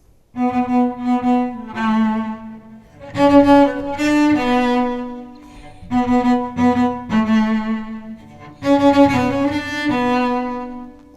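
A solo cello melody played alone in sustained, singing phrases, with short breaks between sections; full and fairly loud, no voices.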